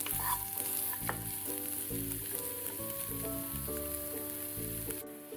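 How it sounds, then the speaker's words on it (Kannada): Onions and green chillies fry in hot oil for a North Karnataka green chilli chutney, giving a steady, close hiss and crackle. It runs continuously under background music with sustained tones. "ಈರುಳ್ಳಿ ಮತ್ತು ಹಸಿಮೆಣಸಿನಕಾಯಿನ ಹುರಿಬೇಕಾಗುತ್ತೆ."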